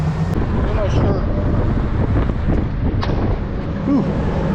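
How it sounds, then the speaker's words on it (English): Strong gusts blast across the microphone beside a broken-down camper van in the middle of nowhere, a loud, continuous low roar that surges and dips throughout, with a voice briefly audible beneath it. "Crazy windy right now."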